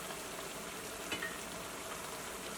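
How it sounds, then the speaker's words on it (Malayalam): Duck curry, a Kerala-style duck perattu, bubbles in a pan with a soft, steady hiss and fine crackle, fairly quiet, with a single faint knock partway through and no voices. "അപ്പോൾ കറി നന്നായിട്ട് തിളച്ചിട്ടുണ്ട്."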